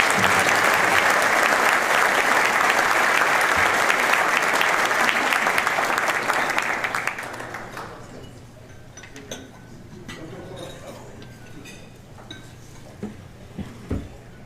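An audience at a State of the County address gives loud, dense applause for the judge that holds for about six seconds, then fades into a quiet room with scattered clicks and a few last claps.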